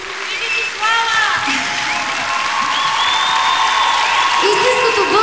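A concert audience applauds a female vocal quartet, with dense clapping mixed with whoops and cheers. An amplified announcer talks over the applause throughout, loud and close.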